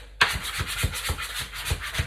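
Bread dough for a homemade bloomer being rubbed between the hands, a close, soft rhythmic swishing with regular strokes about every third of a second, with no talking.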